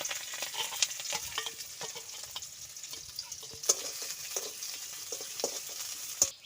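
Onion dropped into hot mustard oil already tempered with black cumin and green chili, a constant close sizzle with intermittent metallic clinks and scrapes of a spatula stirring, no voices.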